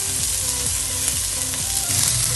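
Vegetables with corn, baby corn and broccoli stir-frying in a pan for red Thai curry, a loud, dense, continuous close sizzle with a faint repeating rattle underneath and no talk.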